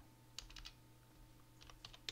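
Faint, quick clicks of typing on a computer keyboard during a village internet training session come in two short bursts over a low steady hum, with no talking.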